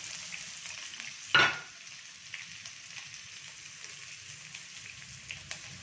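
Chopped onion dropped into hot oil with mustard seeds, lentils and fenugreek, giving one loud sharp sizzle burst followed by steady close crackling and spitting that continues on its own without talk.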